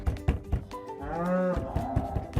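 A black and white cow gives a single loud, drawn-out moo, close by, with other animal and farm sounds around it.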